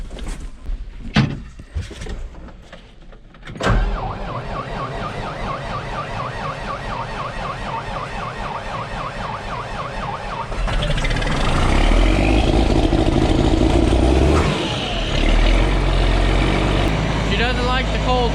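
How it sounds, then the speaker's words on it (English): A 4440 tractor that has been plugged in for a few hours cranks over in cold snow and fires into a steady, rumbling idle, then rises to a louder, higher run. "Started up 4440."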